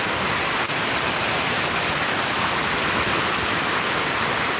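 Artificial waterfall water feature fed by a diverted river at a historic tobacco factory building in Durham, North Carolina: a loud, dense, unbroken roar of falling water, close and steady throughout.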